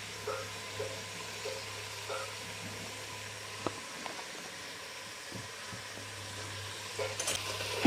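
Jackfruit with turmeric and salt frying in a pan while being stirred, a steady low sizzle broken by occasional scraping and clinking strokes, with no talk.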